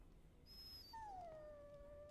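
In the Dragon Age: Origins video game, a dog whimpers in a high, drawn-out whine that slides downward and trails off, soft against a low background hum.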